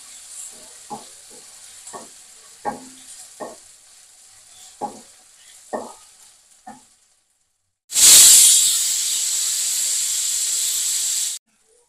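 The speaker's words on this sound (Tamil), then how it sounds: "போட்டு நல்லா வதக்கணும்" Tomatoes being sautéed and stirred in a pan for mutton kulambu, with scattered scraping strokes of a spoon against the pan, then a sudden loud, steady sizzle that holds for several seconds before stopping.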